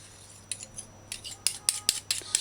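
Beef and broccoli in oyster sauce are stirred with a metal utensil, producing a run of sharp rhythmic scrapes and clinks that grow denser toward the end, close and alone.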